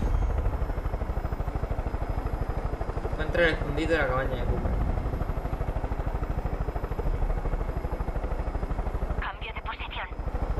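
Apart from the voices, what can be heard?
helicopter in the video game Far Cry 5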